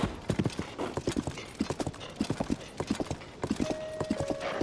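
Horse hooves clip-clop at a steady trotting rhythm in Zelda: Tears of the Kingdom, fairly close and clear, with a brief whinny-like tone near the end.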